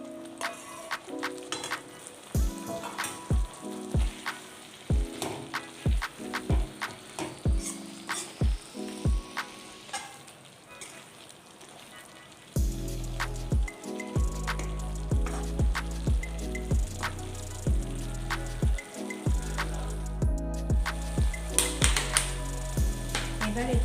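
Pointed gourd pieces fry in a pan with a little water for Bengali potol posto, giving a bubbling sizzle with small pops that sits beneath steady background music.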